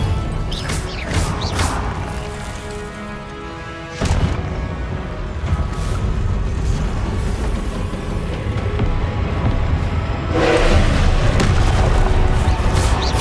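Confringo blasting spells exploding in Hogwarts Legacy during combat, loud booming blasts and crashes over a dense, continuous bed of game noise, with sharp bursts near the start, around four seconds and again near ten seconds.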